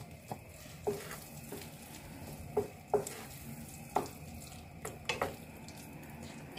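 Scallops stirred in a sizzling pan, with a soft steady fry underneath and scattered scraping taps of the spoon against the pan at irregular intervals, fairly quiet and close.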